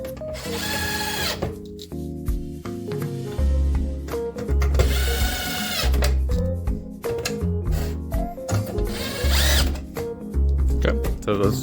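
A power drill drives screws into a polystyrene bee hive bottom board in repeated whirring bursts, with tonal motor whine rising and stopping between screws, close and fairly loud.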